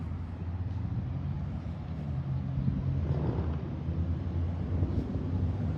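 Low engine drone hums steadily throughout, fairly quiet and unbroken, with faint wind-like rumble mixed in and a slight swell midway.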